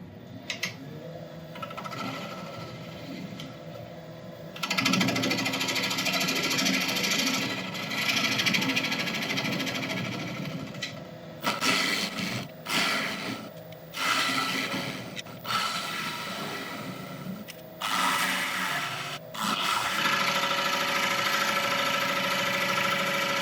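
A woodturning lathe cuts the base of an elm bowl, a steady whirring hum broken by scraping tool bursts that start and stop repeatedly, close and fairly loud.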